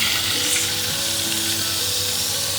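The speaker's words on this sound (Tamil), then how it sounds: "வெந்தயம் சேர்த்து பொரிச்சிடணும்." Oil sizzles steadily as herbs fry for a homemade medicinal hair oil made from balloon vine leaves, a continuous close crackle and hiss with faint stirring and no voices.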